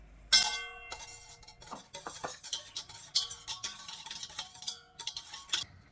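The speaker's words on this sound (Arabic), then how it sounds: "اخلط يا تميم." A utensil stirring and scraping ingredients in a bowl while melted butter is added, quiet irregular clinks and taps against the bowl repeating at an uneven rhythm.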